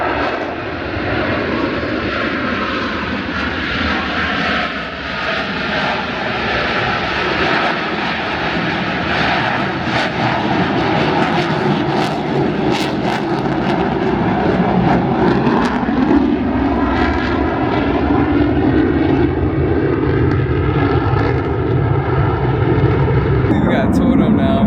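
Jets flying at an Orlando airshow give a loud, continuous roaring drone that stays steady throughout, heavy and close, with excited spectators speaking over the engine noise.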